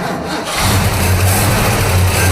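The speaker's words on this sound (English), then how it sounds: "it has a lot of lifter clatter, and I don't think that it's a solid lifter Cleveland" A Ford Cleveland V8 with loud lifter clatter runs close by, giving a dense, steady mechanical drone with a low hum, which swells after a brief quieter start and then holds constant.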